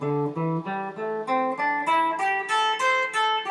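A guitar plays a pentatonic scale, single notes one after another climbing steadily upward at an even pace, clear and close with no talking.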